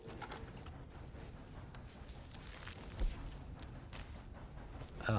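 Horse hooves clip-clop at a steady walking pace in a video game, with one soft thud near the middle and continuous game ambience underneath.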